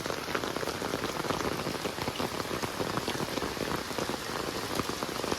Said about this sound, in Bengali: অনেক বৃষ্টি নামতেছে